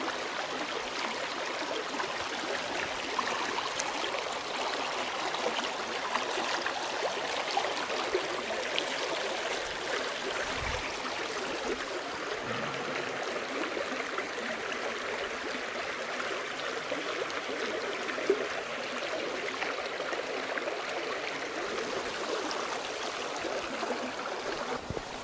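Water swirls and churns around a Blackview BV6600 Pro rugged smartphone held underwater, producing a steady muffled rushing and gurgling wash that continues evenly throughout.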